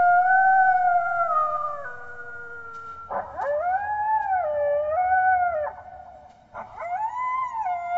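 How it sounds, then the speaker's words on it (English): A coyote howls on a golf course in long, wavering, sustained cries that bend up and down in pitch, repeated across several seconds at moderate distance, with no talking over it. "It sounds like a coyote."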